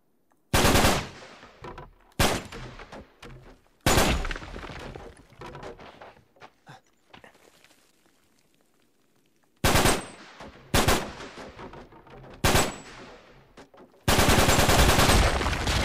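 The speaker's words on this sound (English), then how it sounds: "Let's see if I shoot this." Automatic gunfire from the video game Uncharted 3 rips out in several loud, sharp bursts separated by quieter gaps with footsteps and rustling, ending in a sustained volley.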